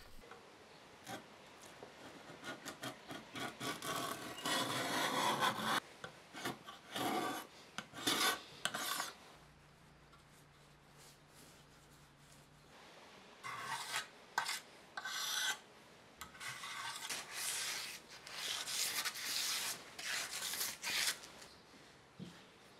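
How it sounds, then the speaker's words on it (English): Old paint being stripped off metal fence components with a hand tool, a close, steady rasping scrape in long bursts, broken by a quiet pause with a low hum before the scraping resumes. "Stripping the paint off of the components"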